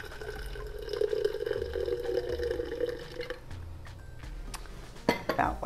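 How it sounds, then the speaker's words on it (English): About two or three ounces of water poured into the bottom of a drinking glass while preparing a berry protein drink; a steady trickle runs for a few seconds, followed by clinks of glass and utensils. "put probably about 2 or 3 ounces of water in the bottom of the glass"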